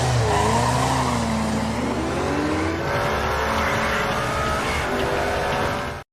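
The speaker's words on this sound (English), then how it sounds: "Ferruccio was seen using a blue Lamborghini Diablo, and Enzo was using his authentic red Ferrari Mondial QV, and not long after" Racing engines of a Lamborghini Diablo and a Ferrari Mondial QV in a race, with continuous loud revving whines that rise and fall and some tire noise, cut off abruptly at the end.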